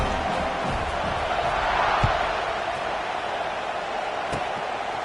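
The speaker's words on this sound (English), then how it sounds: "this crowd is buzzing after that last score" A stadium crowd in a college football video game buzzes as a broad, steady roar after a score, with faint thumps underneath and no clear speech.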